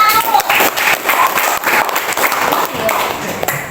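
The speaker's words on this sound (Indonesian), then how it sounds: "beri aplaus untuk kelompok" Classroom audience applauding a presenting student group, steady dense clapping from many hands with a few voices and cheers mixed in, lasting a few seconds.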